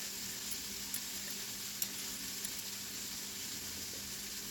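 Bacon frying in a pan, a steady, fairly faint hiss and crackle of sizzling fat with a few small pops, heard on its own without talk.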